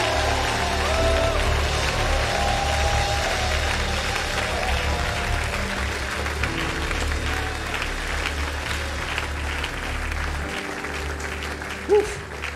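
A church congregation claps in sustained, dense applause throughout, with a few scattered voices mixed in and a brief louder burst near the end.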